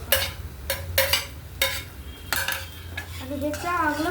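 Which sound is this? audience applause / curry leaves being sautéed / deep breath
curry leaves being sautéed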